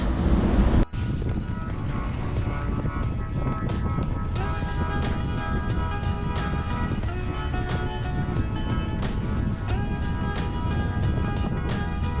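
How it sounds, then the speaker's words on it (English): Strong wind roars across the microphone over heavy ocean waves while a sailboat under a triple-reefed staysail heads toward South Africa in 25–30 knot winds; a dense, continuous rush with sharper bursts of spray and gusts throughout. "With the wind blowing at 25 knots true or 30 knots apparent"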